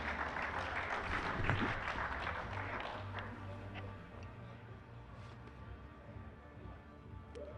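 Convention audience applauding after a speaker's talk, a broad clatter of clapping that starts full and gradually thins and fades toward the end.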